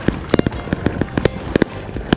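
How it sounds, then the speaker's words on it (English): Fireworks going off on an Atlantic beach, heard from a distance as a scattered series of sharp pops and thuds, some in quick pairs, over a steady outdoor background with no talking. "Fireworks on the beach."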